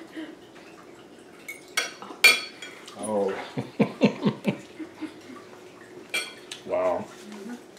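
Cutlery clinks and scrapes on a plate while someone eats Dominican-style tilapia with sauce. The taps are close and irregular, with a few brief mouth sounds in a quiet room.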